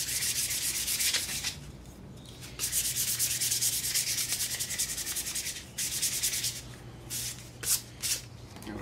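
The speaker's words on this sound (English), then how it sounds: "doing a little bit of light sanding on the edges." Light hand sanding along the edges of a wooden pedestal table, a steady close scratchy rubbing in repeated strokes with short pauses between passes.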